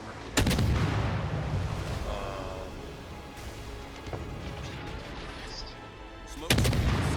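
Naval ship guns firing in a battleship video game: two heavy booming artillery blasts, one near the start and one near the end, with a long rumbling decay between them. Loud and close, with no talking.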